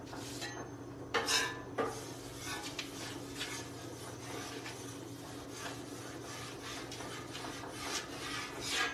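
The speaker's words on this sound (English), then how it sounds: "I haven't used this griddle in a while, so I'm just gonna go ahead and season it up a little bit here" Metal scraping and rubbing on a flat-top griddle as it is seasoned with a light coat of olive oil, with a steady low hum underneath and a few louder clanks and scrapes near the start and end.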